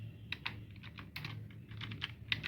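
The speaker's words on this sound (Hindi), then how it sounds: "चलिए मैं अब आपको हिंदी की टाइपिंग करके दिखाता हूँ।" Typing in Hindi on a mobile phone keyboard: a run of soft, quick taps in uneven rhythm, close and fairly quiet, with no voices.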